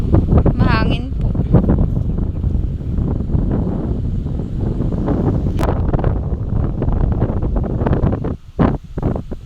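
Strong wind buffets the microphone with loud, rumbling gusts, while a person talks and outdoor noise carries underneath.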